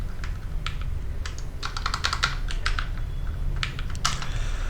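Rapid, uneven keystrokes on a computer keyboard while code is being typed, close and steady, with clustered bursts of clicks over a low background hum and no talking.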